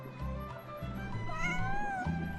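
A Northland cat in Genshin Impact lets out drawn-out, wavering meows, fairly quiet and close, over soft in-game background sound.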